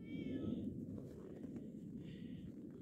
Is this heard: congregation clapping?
no